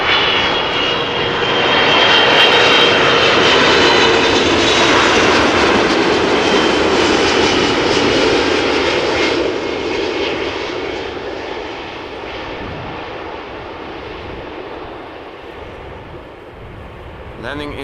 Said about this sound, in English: Landing in typical A330 fashion, gentle, with a high pitch and a little wheelie to boot.